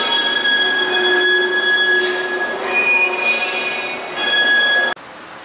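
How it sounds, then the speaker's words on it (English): A small Cambodian Royal Railway airport express train arrives in Phnom Penh with loud, close, shrill wheel squeal that shifts pitch over a steady rail rumble, then cuts off abruptly near the end. "Finally, the train is here."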